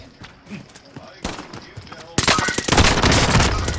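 Rapid gunfire in Call of Duty: Modern Warfare, starting as scattered distant shots and then bursting into loud, dense automatic fire for the last second and a half, with a voice talking underneath.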